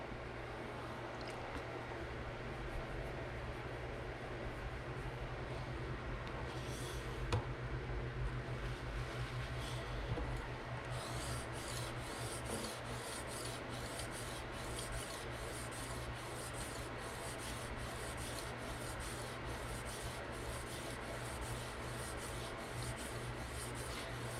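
An M390 steel knife is sharpened on a TSProf fixed-angle system with PDTools diamond resin stones at fine grit toward a 15-degree mirror edge, giving a steady close rasping rub of repeated strokes over a faint background hum.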